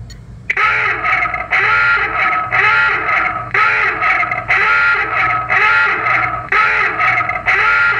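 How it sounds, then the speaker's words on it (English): A harsh, electronic submarine general alarm tone repeats in steady pulses, each lasting about a second, loud and continuous over a low background hum. "Sound the general alarm."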